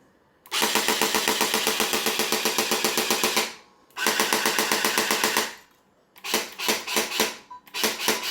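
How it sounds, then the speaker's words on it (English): The recoil motor of a Retro Shooter light gun fires in rapid, loud mechanical clatter: a long automatic burst, then a shorter one, then several brief choppy bursts, all close and with no talking. "Now here's an example of the recoil and the gun in action."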